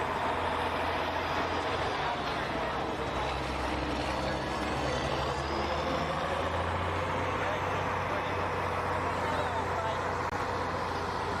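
A 2002 Chevy 3500 pickup with a 6.6 Duramax diesel at a county fair truck pull, its steady low engine drone running continuously in the distance beneath an announcer's voice over a PA.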